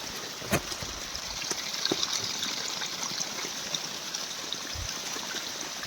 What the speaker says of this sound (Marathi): तर बघा आपलं पाणी चालू आहे बघा